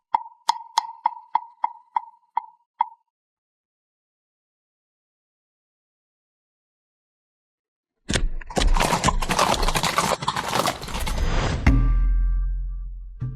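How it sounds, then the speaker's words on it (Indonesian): Horse hooves clop in a quick, evenly spaced run of about nine hollow knocks, then silence, followed by a loud burst of busy, broadband commotion. "Kurasa aku akan menunggang kuda."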